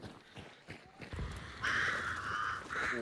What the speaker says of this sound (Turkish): Oha ya kargalar.